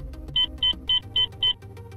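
A torque wrench indicator gives five evenly spaced, clear electronic beeps at 70% of target torque, each short and bright, over a low, steady background bed.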